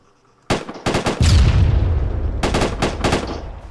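An M72 rocket launcher is fired during a section attack exercise. There is a loud sharp blast, then a run of cracking gunfire shots with a sustained rumbling boom between them, close and without talk.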